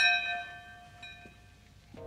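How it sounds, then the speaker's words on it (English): A doorbell in a film, a bell-like ring with lingering harmonic tones, slowly fades, followed by a faint low thump near the end. "Doorbell. Doorbell."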